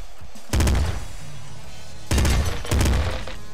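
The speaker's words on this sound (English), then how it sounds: "Assault rifle." Assault rifle bursts in the game Nuclear Throne, three short loud volleys of rapid shots separated by brief quiet gaps.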